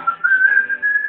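Someone whistles a single sustained, slightly wavering note, close and clear with no other sounds.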